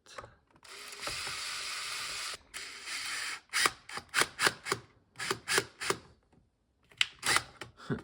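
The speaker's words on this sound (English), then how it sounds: "Try to get some screws in here to hold this in place." Screws driven in by a power driver to mount a part on a cheap milling machine: two sustained buzzing runs of the driver, then a series of sharp ratcheting clicks and taps, fairly quiet and with no talk.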